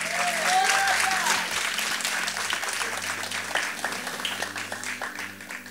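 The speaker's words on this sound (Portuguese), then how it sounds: "Uma salva de palmas para o Senhor, amém?" A church congregation applauds together after a call to praise, a dense sustained wash of many hands clapping that fades slightly toward the end, with faint voices and organ or keyboard tones under it.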